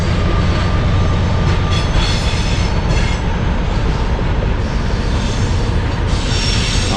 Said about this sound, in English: Loaded coal train.